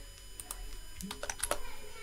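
Noisy computer keyboard keys clack close by in irregular bursts of typing and shortcut presses while someone codes a web application, with a faint voice in the background.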